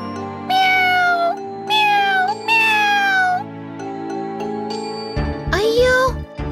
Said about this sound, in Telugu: ఆ పిల్లి పిల్ల అల్మారా పైకి ఎక్కి ఉండడాన్ని ఇద్దరూ చూశారు. దానికి కిందకి ఎలా దిగాలో తెలియక అది ఏడుస్తోంది.